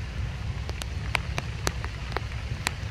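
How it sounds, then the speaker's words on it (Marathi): Light rain falling outdoors, a soft steady patter with scattered sharper drops striking nearby surfaces, fairly faint and close, with no voices. "पावसात भिजतोय, पाऊस पडतोय, बारीकच आहे"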